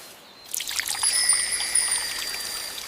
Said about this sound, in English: Next, they water the seeds.